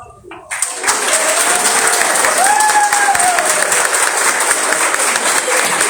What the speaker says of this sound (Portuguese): Faz uma salva de palmas.